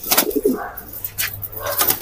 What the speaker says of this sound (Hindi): इस तरह से कबूतर गुटरा रहे हैं और इठला रहे हैं।